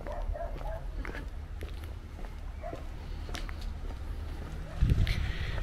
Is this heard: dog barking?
yes